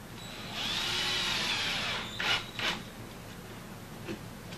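A power drill drives a screw into a wooden hinge template while a door is replaced, giving a short rising whir and then a couple of scraping bursts up close.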